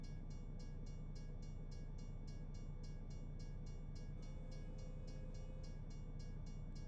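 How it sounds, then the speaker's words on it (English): A short freight train rolls past a street crossing in American Truck Simulator, a steady low rumble with rhythmic wheel clicks repeating evenly throughout, distant and continuous with no voices. "Another train."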